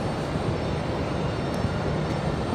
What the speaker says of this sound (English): Looks like a little exec jet.